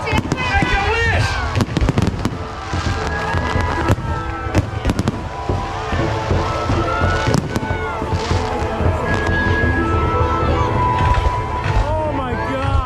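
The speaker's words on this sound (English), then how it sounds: "with fireworks going off and with music in the background" Fireworks burst repeatedly at a celebration in Thailand, loud cracks and pops over music, with people shouting and talking throughout.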